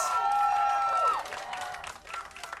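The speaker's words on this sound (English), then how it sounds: "The crowd is hyped up, even though we're in the theater here." Esports crowd in a theater during a League of Legends match, a broad roar of cheering and applause that swells loudly at first, then settles into a thinner, fluctuating crowd noise.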